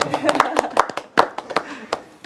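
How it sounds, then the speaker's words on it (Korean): Sparse hand claps in a talk-show studio as a guest lawyer is introduced, with several distinct sharp claps scattered irregularly under people talking. "후보 아니셔도 박수 쳐주시죠."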